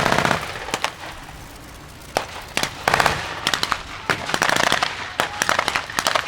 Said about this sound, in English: there are rounds coming down on the village